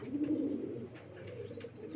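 Royal Teddy fancy pigeons, an imported-bloodline pair with stone eyes, coo in a low steady murmur at a farm loft, close by and continuous with no voices.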